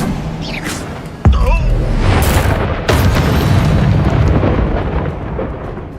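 Confringo spell blasts from Hogwarts Legacy: a sudden heavy boom strikes, followed a moment later by a second explosive thump, each trailing into rumbling, crackling debris amid busy game effects.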